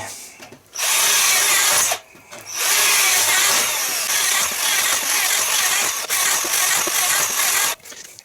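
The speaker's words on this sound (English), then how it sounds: "back to the slog, back to the hole drilling" A cordless lithium-ion power drill whines loudly in several long bursts, biting into wood, with short pauses between runs; close and insistent.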